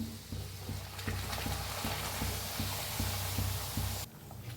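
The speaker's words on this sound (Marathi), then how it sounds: "दुसरं बी दाखवते तुम्हाला तळून" Kadakani dough deep-frying in hot oil, a steady close crackling sizzle with soft bubbling and occasional light pops running continuously before cutting off sharply near the end.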